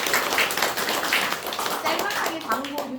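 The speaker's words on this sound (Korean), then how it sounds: "큰 박수 부탁드릴게요." Warm audience applause at a book talk honoring a cookbook author, steady clapping from a small crowd with a voice speaking over it toward the end.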